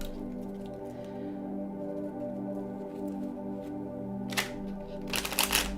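A deck of tarot cards being shuffled during a reading, with two short bursts of riffling near the end over a steady low hum of room tone.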